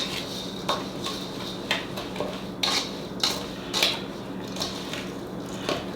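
Ingredients for a smoked venison meatloaf being mixed in a bowl, with regular scraping and clinking strokes of a utensil against the dish, close and moderately loud at a steady rhythm.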